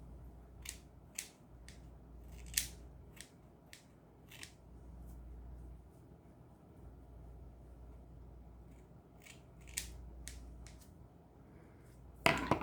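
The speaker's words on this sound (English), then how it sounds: "Let's just do this with my scissors." Scissors snip in short bursts of crisp clicks, a few cuts close together, then a quiet stretch before more snipping and a clatter at the end.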